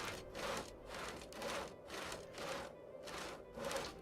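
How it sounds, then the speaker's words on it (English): Wood being sawed in the Project Zomboid video game, a steady back-and-forth rasping in regular strokes about once per second, close and fairly quiet, with no voices. "You'll never hear it over all this sawing"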